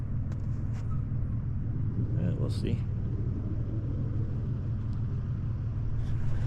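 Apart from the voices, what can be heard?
Sunrader truck camper driving up mountain road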